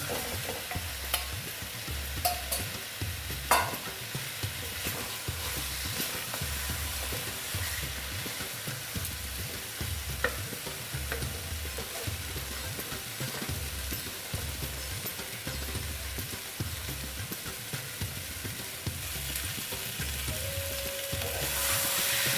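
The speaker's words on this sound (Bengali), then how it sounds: "ডিমগুলো দিয়ে আবার ডিমের সাথে কষিয়ে দিচ্ছি ভালো মতো" Eggs are stir-fried with masala for an Afghani egg curry, a continuous sizzle with rhythmic, repeated scraping strokes of a spatula against the pan throughout.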